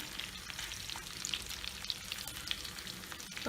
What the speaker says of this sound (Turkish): Ben deri kısmını biraz daha kızartmak istiyorum